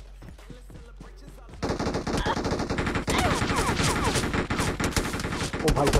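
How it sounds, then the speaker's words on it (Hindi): MG3 machine gun firing in the mobile game BGMI, a quiet start that breaks into sustained loud rapid bursts of automatic gunfire with overlapping shots, dense and continuous to the end, no voices over it. "यहाँ पे बंदा भाई साहब लेट के MG3 चला रहा था।"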